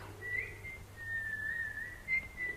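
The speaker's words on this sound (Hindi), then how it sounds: "ये सीटी की आवाज, इसे डर लगता है।" A sustained, steady whistle sounds alone, holding one shrill pitch with slight wavering and a brief break before it resumes, fairly clear against quiet surroundings.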